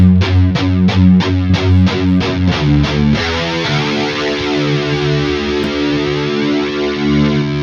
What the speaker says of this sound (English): I think of this dimension D and the eventide kind of like choruses, but eventide is kind of like just static chorus